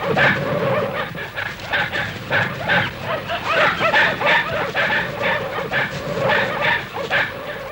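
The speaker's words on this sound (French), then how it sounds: "Quelques minutes après, les chiens les prenaient en chasse. On aurait dit une meute formidable." A pack of village dogs in chase, barking and yelping in rapid, overlapping bursts throughout, loud and close, with excited whimpering yips mixed into the steady clamour.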